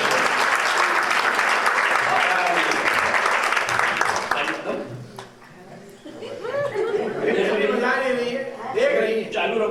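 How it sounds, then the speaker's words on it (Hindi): Loud applause from the audience at a Hindi poetry gathering held at a Hindu center in New York. It is dense and sustained for about four seconds, then fades into scattered claps, chatter and laughter. "जोरदार तालियों से"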